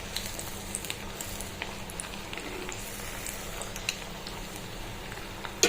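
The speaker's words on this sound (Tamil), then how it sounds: "ஆயில் ஃப்ளேம் அட்ஜஸ்ட் பண்ணி நீங்கள் பொரிச்சுக்கோங்க" Breadcrumb-coated salmon fish fries in hot oil in a pan, giving a steady, soft crackle and sizzle with scattered small pops, fairly quiet and heard on its own.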